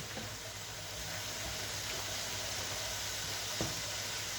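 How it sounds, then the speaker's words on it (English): A pan sizzles steadily while tagliatelle cooks, a continuous close hiss with faint clinks and one brief tap near the end, and no voices. "once I start hearing that sizzle, that means it's beginning to dry"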